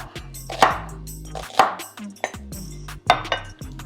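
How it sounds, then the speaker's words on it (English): A knife chops collard greens into rings on a cutting board, three sharp, distinct chops landing about a second apart with softer knife and board knocks between them, close and alone with no talking. "We just want to get it chopped up."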